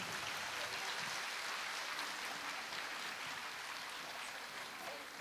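Audience at a pre-primary school annual concert gives a round of applause, heard as faint, distant, even clapping spread across the whole clip with no talking.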